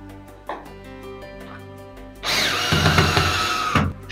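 A cordless screwdriver whirs against silence, first a few short taps, then a sustained loud drive of about a second and a half as a screw fastens a box to a wall during a hybrid inverter installation.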